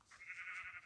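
A sheep bleats in the Minecraft video game, one short, faint, wavering bleat lasting under a second.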